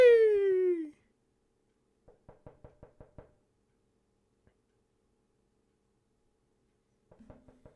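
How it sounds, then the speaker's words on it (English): Someone knocks on a door at night in a string of sharp, evenly spaced raps, then a short pause and a second burst of knocks, following a brief vocal sound at the start. "this man is annoying at knocking on the door"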